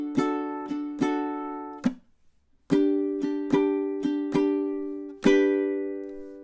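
Ukulele playing measures 8 and 9 of a song, with crisp plucked or strummed notes in a steady rhythm, a short silent gap partway through, close and clear with no talking.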